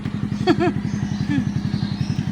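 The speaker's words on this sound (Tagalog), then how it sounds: "Yung mga pinapandar, mga motor." A motorcycle engine idles nearby with a steady, rapid chugging throb, while a voice speaks briefly over it.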